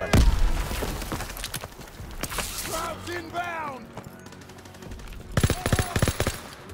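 Gunfire in the World War II shooter game Call of Duty WWII: bursts of shots and booms mixed with game voices and sound effects, loud and busy, with a dense cluster of rapid shots near the end.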